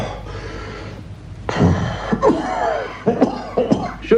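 A person coughs several times in short, rough bursts, close by, with brief pauses between them.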